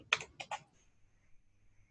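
Quick keystrokes on a computer keyboard, a short burst of close, crisp clicks in two small clusters before the room falls quiet.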